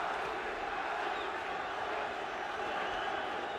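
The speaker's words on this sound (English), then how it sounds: "Princic Nasim fans in the crowd chanting Nazi, Nazi, Nazi." Large boxing arena crowd roaring and chanting in support of the fighter Prince Naseem Hamed, a distant, dense and steady wash of voices with no distinct words standing out.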